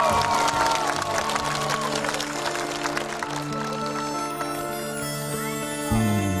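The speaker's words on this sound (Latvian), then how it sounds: "Aplausīt!" A concert audience at a Latvian commemorative day event applauds after a group performs, scattered clapping and crowd noise mixed with sustained musical tones that carry on throughout.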